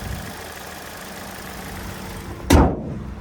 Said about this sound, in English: And there's that 2-liter naturally aspirated 4-cylinder.